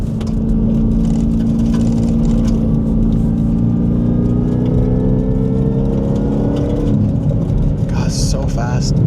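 A Goosetuned Ford Raptor R truck drifting on open terrain, a loud close engine drone with rising and falling pitch and a rumbling whir, tyre noise and bursts of wind buffeting toward the end.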